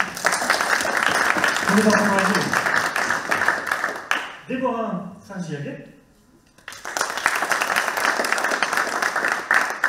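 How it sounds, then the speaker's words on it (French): An audience applauds to welcome a guest onto a conference panel, steady clapping swelling before and after a brief spoken introduction of her name, then continuing loudly. "sous vos applaudissements"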